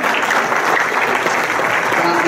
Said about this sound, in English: How about a round of applause for the hardest working guy in New Jersey labor?